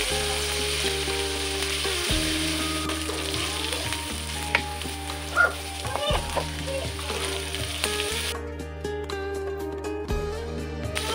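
Shrimp and spice paste fry loudly in a hot pan, a dense close sizzle with occasional stirring scrapes, while background music plays throughout.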